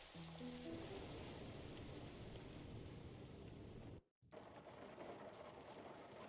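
Steady rain pours down in the dark farm-sim game Grimshire, a dense, even hiss that runs loud and continuous with a short silent break before resuming.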